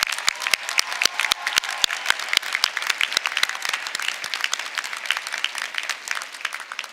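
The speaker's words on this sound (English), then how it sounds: "Let's give them a round of applause" At a university commencement ceremony, a large audience applauds for staff and volunteers, with a few sharp, close claps standing out at first, then a dense, steady roll of clapping throughout.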